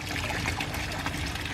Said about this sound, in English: So obviously you've got your Nexus return, which pushes the water around the back here as well.